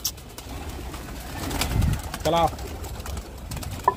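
Domestic pigeons just released from their loft coo in soft, throaty bursts, with one clear call standing out midway over faint rustling and a speaking voice.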